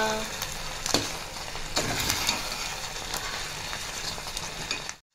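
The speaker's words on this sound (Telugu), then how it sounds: "నెయ్యి కూడా వేసేసుకొని మిక్స్ చేసేసుకోవాలి మంచిగా." A spoon stirs ghee through jaggery rice made with tiny chitti muthyalu grains in a hot pan, giving soft sizzling and scraping with a few sharp clacks against the pan.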